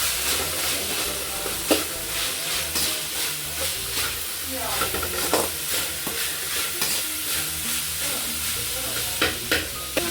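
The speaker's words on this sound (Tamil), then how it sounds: "நல்லா வதக்கி நல்லா ஃப்ரை பண்ணிக்கலாம்" Beans, capsicum and cabbage sizzle and hiss in a hot pan for fried rice, with repeated scraping and stirring clatters of a utensil against the metal.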